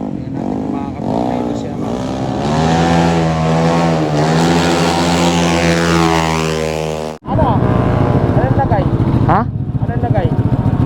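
A Mio 190cc motorcycle engine revs hard through its exhaust pipe, the loud tone climbing in pitch and then cutting off sharply before a second burst of revving, with talk over the engine.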